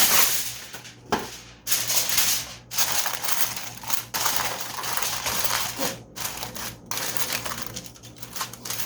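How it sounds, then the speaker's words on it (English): Aluminum foil crinkles and crumples in bursts of crackling as it is pressed over a dish of cabbage rolls, close and fairly loud, with short pauses between handling and a faint steady hum beneath. "I'm going to cover it with some aluminum foil"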